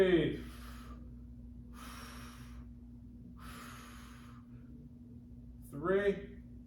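Heavy breathing during a stick mobility exercise: three slow, audible breaths a little over a second apart over a low steady hum, followed by a brief voice at the end.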